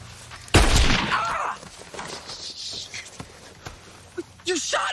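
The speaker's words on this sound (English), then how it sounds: "You shot me!" A single sharp gunshot rings out close and loud in a staged duel among college football players, followed by a short burst of shouting and scattered scuffing noises.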